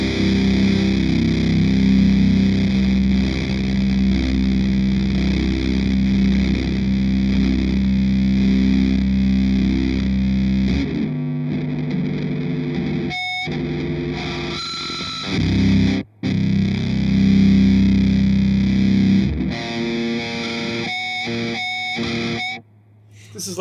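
Guitar or bass played through a Kink Russian Plague distortion pedal, a thick, heavily fuzzed sustained tone, then chopped chords with brief silences and sharp attacks in the second half.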